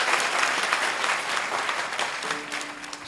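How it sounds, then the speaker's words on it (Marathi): An audience applauds at an Ashadhi kirtan in Pandharpur, a dense, steady wash of many hands clapping together at moderate distance, holding level throughout without a break. "एकदा टाळ्या तर वाजवा."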